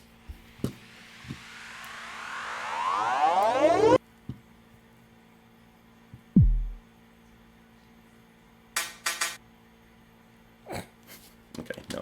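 A ringy, frequency-shifted synthetic sound effect with a short reverb tail sweeps and rises over about four seconds, cuts off abruptly, and is followed by sparse clicks, a sharp low thump, and short bright bursts against a faint hum.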